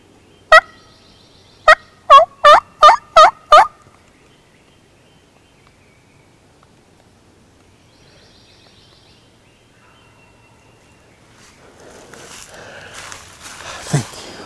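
A wild turkey gobbles in a field, one call and then a quick run of five loud, rattling gobbles, followed by quiet and later soft rustling and movement nearby.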